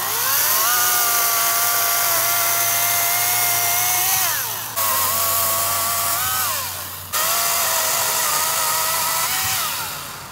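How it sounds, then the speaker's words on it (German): A chainsaw roars continuously while cutting dead wood for firewood, loud and close, its pitch sagging under load and twice dropping abruptly before revving back up, with no voices. "musste ich dann heute Morgen mal die Kettensäge rausholen"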